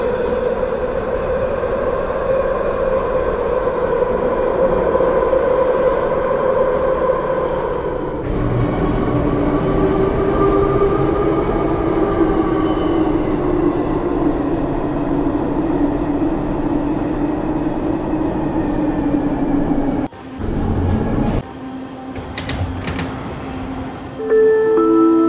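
A 1995 Bombardier Mark 1 SkyTrain on Vancouver's Expo Line, bound for Waterfront, hums steadily from inside the car, its motor tone rising and falling, then a brief clattering shift and door chime near the end.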